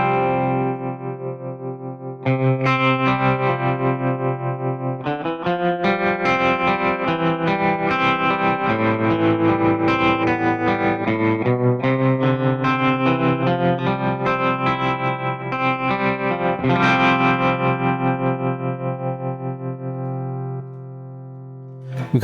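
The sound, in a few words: electric guitar with tremolo effect, Fractal FM9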